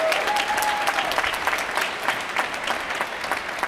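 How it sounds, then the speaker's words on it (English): A graduation audience breaks into sustained applause, a dense, steady wash of many hands clapping at once throughout, loud and filling the hall. "And they deserve a round of applause."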